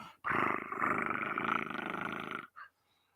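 A voice imitates a cat's purr with a steady, buzzing rumble for about two seconds, followed by a brief breathy sound, then silence.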